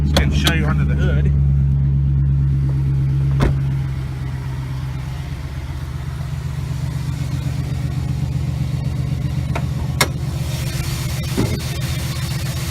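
A truck's 4.8-liter Vortec V8 idles steadily with a deep, continuous low rumble, slightly louder for the first few seconds and then settling, with a few sharp clicks over it.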